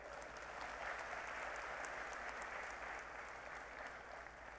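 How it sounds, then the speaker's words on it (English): An audience at a tech conference keynote session in Hyderabad gives a steady round of applause. The clapping sounds dense, even and somewhat distant, with a low hum underneath. "Come on, some round of applause, guys."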